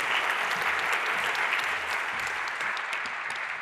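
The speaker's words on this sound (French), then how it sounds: "On va t'applaudir." Audience at a neuroeducation conference day applauding a speaker after his talk, a continuous even wash of clapping throughout, moderately loud with no talk over it.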